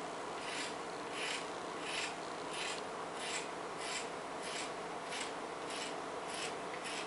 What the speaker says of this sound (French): je vais commencer à couper des bandes, toujours sur mon t-shirt plié en deux